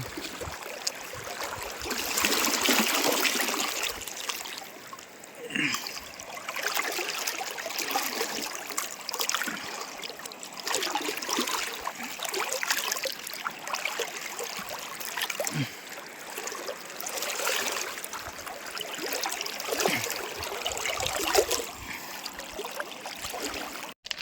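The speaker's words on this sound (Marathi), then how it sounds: "त्या साईडला होडी नेऊन ठेवू परत" A rowing boat moves on a river with a steady wash of water against the hull, trickling and gurgling close by, with faint knocks from the oars through the long stretch.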